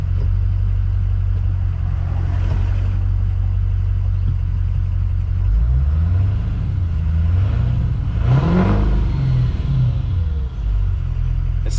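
A 6.0 Powerstroke diesel truck with a non-VGT setup and lift pump on a test drive: a steady low engine drone runs throughout, rising and falling twice as the truck accelerates and shifts, close and loud.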